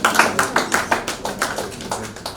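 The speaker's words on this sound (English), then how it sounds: "I thought somebody was going to clap for us." A small group claps in a quick, even rhythm, about a dozen distinct hand claps close by with no talking over them.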